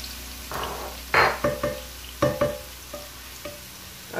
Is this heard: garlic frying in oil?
yes